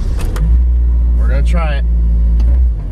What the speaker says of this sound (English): I'm just gonna start the car up, back it up, and then I'm gonna go into second gear and just see if it makes a little bit of boost